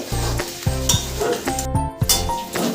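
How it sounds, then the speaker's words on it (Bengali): Chicken stir-fried in a pan for a home-cooked curry, with bursts of sizzling and frying broken up by the scrape and clatter of a spatula stirring against the pan, close and without talk. "চিকেনটা কষাই করে নেওয়া হয়ে গেছে এবার ওতে একটু জল দিয়ে দিচ্ছি"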